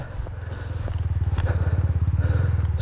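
An enduro motorcycle rides off-road with its engine loud and close, a rapid pulsing throttle climbing steadily in level, with a few thumps and clatters from the terrain.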